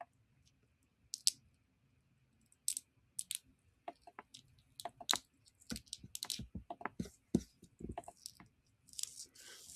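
A computer keyboard is typed on in scattered, irregular clusters of sharp clicks after a quiet opening, growing denser toward the end, close and without speech.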